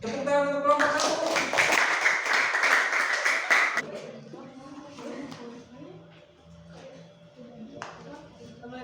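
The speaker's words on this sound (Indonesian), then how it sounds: "Tepuk tangan untuk kelompok 1" A classroom audience bursts into brisk applause for a student group about to present, loud dense clapping for roughly three seconds, then fading into murmured talk and scattered background noise.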